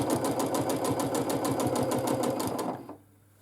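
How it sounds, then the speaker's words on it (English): A domestic sewing machine runs steadily at medium-high speed during free motion quilting, its needle giving a fast, even mechanical clatter up close, then it stops abruptly into near silence. "I quilt by listening to my sewing machine"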